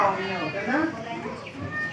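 Children's voices imitate a cat's meow during a kindergarten school visit: a few short, rising and falling vocal mews, close and fairly loud, mixed with other children talking.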